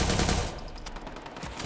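Gunfire in the video game Watch Dogs 2 multiplayer, a loud burst of rapid shots at the start that fades into quieter scattered reports and rumble.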